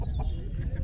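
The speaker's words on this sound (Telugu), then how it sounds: "ఈ పుంజు వచ్చేసి హెవీ సైజు డబల్ బాడీ కలిగిన పుంజు" Heavy, double-bodied black rooster at a Saturday hen market in Mydukur, clucking in short, close, low bursts amid continuous market bustle, no clear speech over it.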